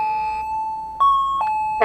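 A Magicfly wireless video door phone rings after its front button is bumped, giving sustained electronic chime tones that step between pitches, loud and close with no talk.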